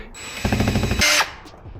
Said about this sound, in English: you're going to need your 6mm drill bit, and this should go right in